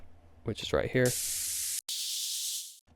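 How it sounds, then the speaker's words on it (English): A very simple synth sweep-up in a deep house track rises as a steady bright noise wash after brief speech, cuts off for a moment, then returns and fades. "and then a very simple sweep up"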